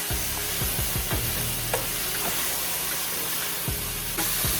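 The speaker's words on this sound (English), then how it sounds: "And give it a really good stir." Brussels sprouts sizzle in a pan with sriracha and agave while a utensil stirs them, making several soft knocking scrapes against a constant loud frying hiss.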